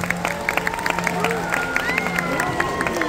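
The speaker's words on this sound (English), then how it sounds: "A big round of applause for our fabulous choir." Audience applause and scattered cheering for a choir at a Disneyland Paris Christmas show, a steady wash of clapping with a tonal music-like hum underneath, with overlapping voices and bright transient claps throughout.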